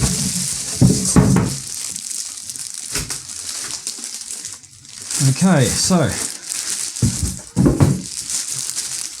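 Crinkly plastic wrap rustling and crunching in bursts, with a stretch of squeaky polystyrene rubbing in the middle, while unpacking a Medeli SP4200 keyboard, under someone talking.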